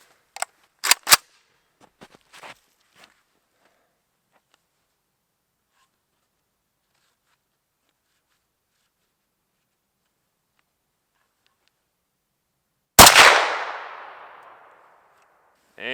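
An Arsenal AK-74 fires a single sharp, loud 5.45x39 shot outdoors with a ringing decay, after several seconds of faint handling clicks and near silence.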